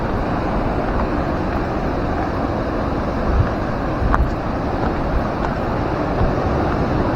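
Continuous surf and waves rolling onto Karangan beach, a broad steady wash with wind buffeting the microphone throughout, no voices, close and fairly loud.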